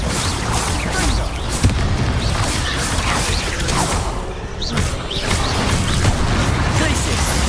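Confringo fire-blast spells in Hogwarts Legacy combat, with repeated bursts and whooshes over dense, busy battle noise and a continuous clatter of effects.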